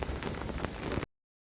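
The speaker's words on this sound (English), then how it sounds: "the rain just continues to pour" Heavy rain pours steadily on a boat anchored in a swell-rocked cove, a dense close hiss that stops abruptly after about a second.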